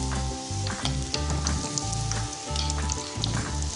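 Bhatura dough deep-frying in hot oil while oil is ladled over it to puff it up, a loud steady sizzle and crackle that continues throughout with no talking.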